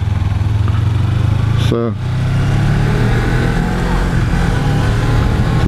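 An A2-class motorcycle engine drones steadily under riding, building in a short burst of acceleration with wind rush throughout; a brief word is spoken near the start.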